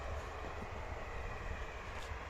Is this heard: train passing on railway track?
yes